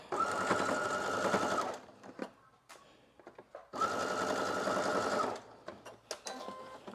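A sewing machine runs in two loud, steady bursts while stitching the strap of a slip dress, with short pauses of clicks and fabric handling between them.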